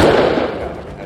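A single loud gunshot in the game Rust Console Edition, a sharp burst that rings out and decays over about a second.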